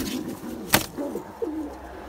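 Fantail and homer pigeons coo close by in a loft, low soft throaty calls rising and falling, broken by one sharp clap partway through.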